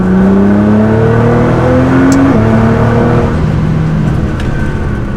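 A Nissan GT-R pulls hard through third gear, its engine note climbing steadily and loud, with a brief shift-like dip midway before the drone continues rising.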